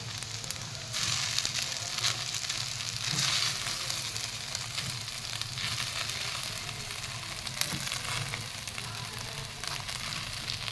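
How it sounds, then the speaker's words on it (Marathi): Soaked sabudana (sago pearls) being stir-fried in a pan, a steady sizzle with soft scraping turns running throughout, fairly close and continuous with no talking. "पुन्हा एकदा व्यवस्थित परतून घेऊया"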